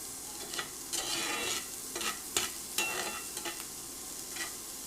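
Reheated food sizzles in olive oil in a pan on an induction burner just after being flipped, a soft steady frying hiss broken by several quick utensil scrapes, close but fairly quiet and without speech.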